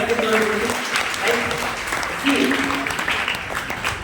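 Loud applause from a crowd of women at an Easwaramma Day gathering of a samithi in Rayagada, steady clapping across the whole stretch with some voices mixed in.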